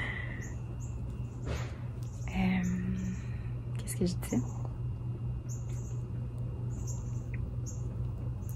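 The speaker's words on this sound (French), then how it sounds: "Des petits oiseaux qui chantent." Small birds singing outdoors on a mild sunny day, faint high chirps scattered through the background while someone talks close by over steady ambient noise.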